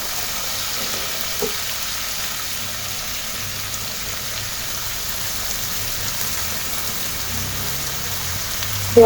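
Shrimp and water lily stems fry together in a pan for a curry, producing a soft, continuous sizzling hiss like light rain, steady and fairly quiet for the whole stretch, with no talking.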